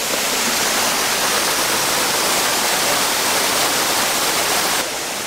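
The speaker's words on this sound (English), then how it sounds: "It is a nice sound to lull you to sleep, the waterfall, the sound of the waterfall." Steady, loud rush of falling water from a waterfall beside holiday lodging near Busch Gardens Tampa, a dense unbroken roar with no voices and only a slight shift in tone at the very end.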